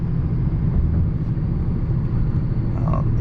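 A Cummins diesel truck engine with a six-speed idles on a summer morning in Texas, a continuous heavy low rumble close by, unbroken and fairly loud, with brief faint voice traces.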